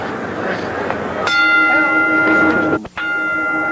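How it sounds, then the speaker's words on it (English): Boxing ring bell rings to signal round 2 of a heavyweight bout, a single sharp clang with a sustained ringing tone that decays over crowd noise and commentary. "The bell for round 2."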